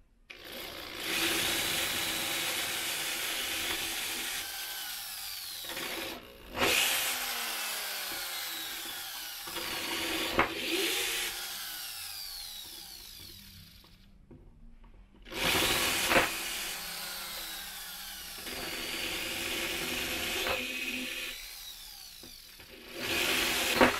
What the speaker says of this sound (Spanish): ya teniendo nuestro taladro con nuestra broca de 5 y 16, vamos a proceder a agrandar los huecos